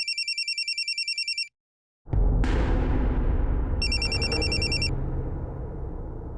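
A telephone rings in two bursts of repeated electronic trills, with a loud, dense rumble of indoor noise swelling up between them and carrying on beneath the second ring.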